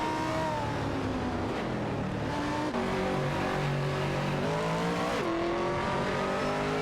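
Two race cars, a Porsche 911 997 GT3 RSR and an Infiniti G35 GT2, duel in a video game race, engines droning and revving steadily with rising and falling pitch, gear shifts audible, loud and continuous.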